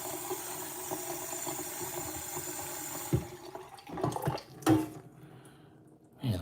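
Hot water runs steadily from a tap in a hotel room, a continuous hiss that cuts off partway through, followed by a few clunks and splashes.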